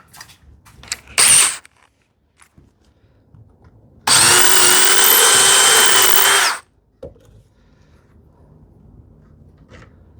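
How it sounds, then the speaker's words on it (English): A power drill bores a hole in wood during hand-tool woodworking on a TV unit. A brief whir is followed by a loud, steady drilling run of about two and a half seconds, with quiet handling noises around it. "Let me get the drill bit."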